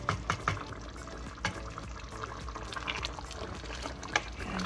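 Half a cup of water poured into a pot of beef stew, a faint steady splashing trickle with scattered small knocks in a quiet kitchen.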